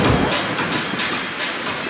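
Metro Express light rail train in Mauritius rolls past at its launch, a steady broadband rumble with rhythmic wheel clatter, loud and close, heard alone without talk.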